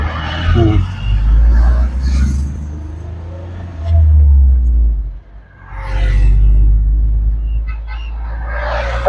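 Tata Intra V20 bi-fuel pickup running on petrol, its engine a steady low hum that rises and dips as the truck moves, with a person talking over it throughout.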